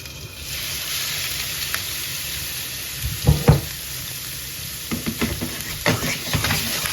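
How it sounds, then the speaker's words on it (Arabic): Shrimp sizzles steadily in a hot pan while being stir-fried with vegetables for sautéed rice, a constant frying hiss with a few louder stirring scrapes and clatters, close up, no voices. "وغادي نزيد عليها الكروفيت"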